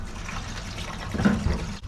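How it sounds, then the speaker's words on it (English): Diesel fuel glugs from an empty DEF jug with a spout into the tank of a Chinese diesel heater inside a trailer, a close, steady liquid pour that swells briefly before stopping. "time to put a little fuel in this heater"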